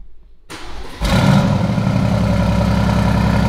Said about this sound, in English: Liam, start her up.